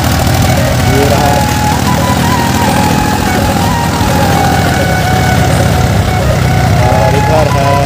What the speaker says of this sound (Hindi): और इधर है स्वराज ट्रैक्टर, जो कि 735 मॉडल